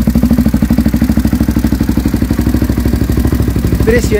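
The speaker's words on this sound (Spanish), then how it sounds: "vamos a ver cómo suena este cañito de escape" A Honda Tornado motorcycle exhaust pipe idles loudly nearby with a fast, even, pulsing putter that runs throughout, ending with a brief higher squeak.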